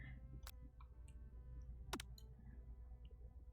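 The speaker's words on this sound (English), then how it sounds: "I just want to make sure you can very clearly hear the sound of me clicking on the drumsticks." Light, quiet clicks land at irregular intervals as drumsticks are clicked in a cute chicken-empire video game, each tap short and crisp over a steady low background hum.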